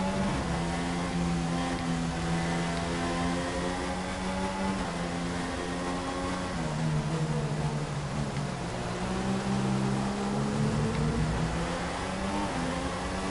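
An F1 race car engine running in lean revs during the European Grand Prix in the F1 2016 video game drones steadily and loudly, its pitch dipping and climbing slightly throughout, with no talk.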